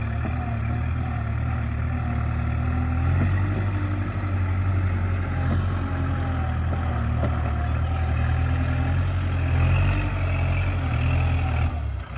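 A Kubota 5018 tractor engine idles steadily and close by, a constant low rumble that holds the same level throughout with no talking.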